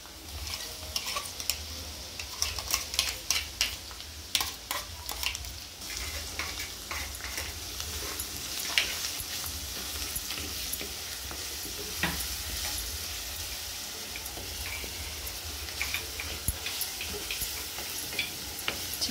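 Chicken pickle with crushed garlic fries gently in a pan over low heat, a soft continuous sizzle broken by scattered stirring clicks and scrapes, fairly quiet and without talk.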